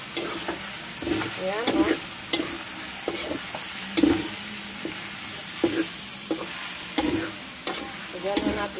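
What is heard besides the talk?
pork dinuguan sizzling dry in the pan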